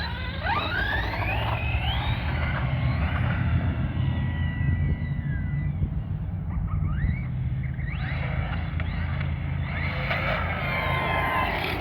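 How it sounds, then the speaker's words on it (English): A Redcat Kaiju EXT RC car on 5S power drives around outdoors, its electric motor whining in rising and falling sweeps over a constant rumbling wash of tire and ground noise, fairly faint and distant. "So we're going to drive it around, see how it handles"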